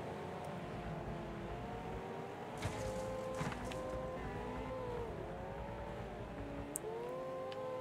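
Several racing car engines in the video game Wreckfest whine and rev continuously, pitch rising and falling as they accelerate and shift, with no voices.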